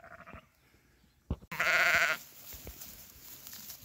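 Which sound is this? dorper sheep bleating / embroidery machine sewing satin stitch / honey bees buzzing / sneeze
dorper sheep bleating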